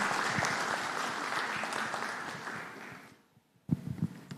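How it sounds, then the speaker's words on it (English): Applause from a panel audience of refractory-sector CEOs: steady, moderately loud clapping that fades out after about three seconds and is followed by a few louder close thumps. "please have a big round of applause"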